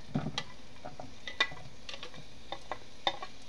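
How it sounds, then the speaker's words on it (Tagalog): Onion goes into a pan, with soft scattered sizzles and a few sharp clicks and scrapes of stirring against a quiet background, close by, with no talk. "Ilalagay ko na yung sibuyas."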